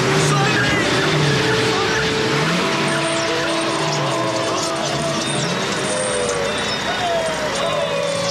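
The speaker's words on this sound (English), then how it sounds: "Put it in gear. Now, gently press down the accelerator. Slowly take your foot off the clutch." A manual car pulls away after being shifted into gear, its engine rising steadily under continuous noise, with tyres faintly squealing amid background voices.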